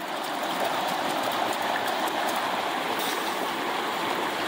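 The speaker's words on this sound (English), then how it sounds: "keep the amount of water going through the sluice more or less constant" River water rushing steadily through a gold sluice in Fairplay, Colorado, a constant broadband wash of flowing water, close and even with no pauses.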